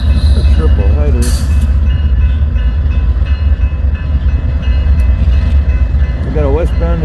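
A freight train led by an ES44 C4 locomotive, number 6800, rumbles past close by in a loud, continuous roar with rattling wagons, while a voice talks over it.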